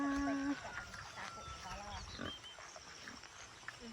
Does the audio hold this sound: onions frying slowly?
no